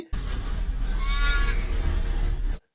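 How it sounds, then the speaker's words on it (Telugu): Worn or water-soaked car brake pads giving a continuous high-pitched squeal, steady and loud for over two seconds with a brief wavering overtone in the middle, over a low rumble. "బ్రేక్ ప్యాడ్స్ అరిగిపోయినప్పుడు లేదా వాటిలోకి వాటర్ వెళ్ళినప్పుడు ఈ సౌండ్ ఎక్కువగా వస్తుంది"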